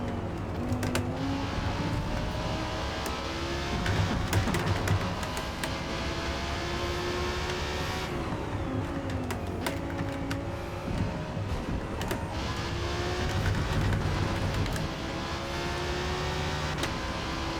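McLaren F1 GT engine in Forza Motorsport, loud and steady throughout, with engine tones sweeping up and down through gear changes and revs, alone without talk.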